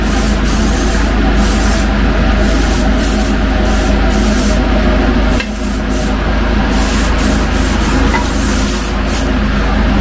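Spray Max epoxy primer hisses from an aerosol can onto a Volk TE37 wheel in a continuous, loud, close spray with brief pulsing dips and one short break midway.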